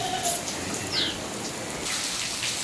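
Rain falls outside, a steady soft wash of patter heard from indoors, faint and continuous, with a bird call briefly cutting in.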